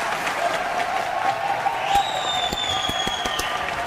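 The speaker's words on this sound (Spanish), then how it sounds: "Marcelo, gracias por ese aplauso" A crowd applause sound effect fires as a stream alert during a Spanish-language Bloodborne gameplay stream, giving a steady clapping wash with a bright tone sweeping in partway through.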